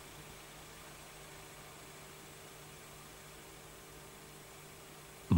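An Audi 80 engine idles quietly with a steady, even low hum and faint hiss, heard at a distance with no voices, before a short loud bump at the very end.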